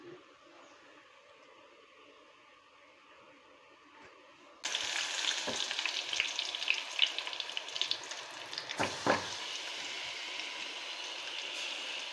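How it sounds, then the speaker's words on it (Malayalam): After a quiet start, mustard seeds hit hot coconut oil with a sudden loud sizzle, crackling and popping steadily close by, with a stir midway. "സാമ്പാറിലേക്കുള്ള കടുക് പൊട്ടിക്കുകയാണ്"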